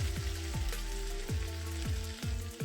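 Chopped mushrooms added to softened meat frying in a pan, a quiet crackling sizzle with a few soft, repeated low knocks or thumps spaced through it.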